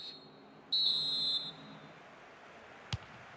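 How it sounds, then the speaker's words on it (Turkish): A referee's whistle in FIFA Online 4 blows to start the second half: one short, steady, high-pitched blast over quiet background, followed later by a brief click. "Hakem düdüğünü çaldı. Maçın ikinci yarısı başladı."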